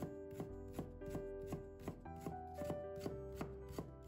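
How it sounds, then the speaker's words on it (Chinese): A knife chops fresh ginger into thin strips on a cutting board, each stroke landing as a sharp rhythmic knock, roughly ten steady cuts close up with no talking. "把生姜切片， 再切成细丝"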